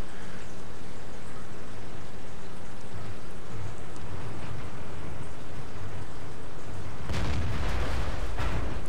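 In the WZ-132 tank video game, heavy cannon blasts and rumbling impacts boom over constant noisy battle ambience, with a loud, dense burst near the end.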